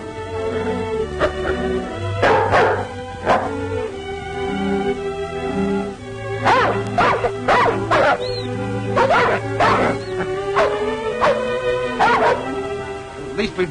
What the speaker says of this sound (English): At least we've got our dog team.